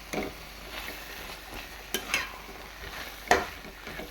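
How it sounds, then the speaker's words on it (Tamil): Chickpeas being stirred in hot oil in a pan while making chana masala, with soft steady sizzling and a few scraping spoon strokes at irregular intervals, close and fairly quiet, no talking. "இப்போ வந்து சுண்டல் சேர்த்துக்கலாம் உங்களுக்கு எவ்வளோ தேவையோ அந்தளவுக்கு சுண்டல் ஆட் பண்ணிக்கலாம் நல்லா ஒரு கிளறு கிளறிக்கலாம்"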